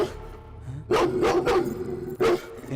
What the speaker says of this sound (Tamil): புதுசா நாய் வந்திருக்குல்ல, அதனால தான் நினைக்கிறேன்.